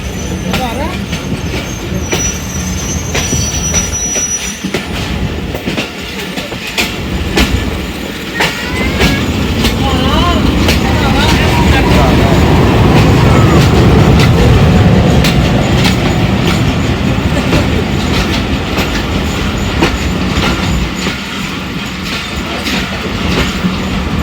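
Hazara Express passing on a Pakistani railway line on a foggy day, loud close clickety-clack of wheels and rumbling carriages going by continuously, with some wheel squeal.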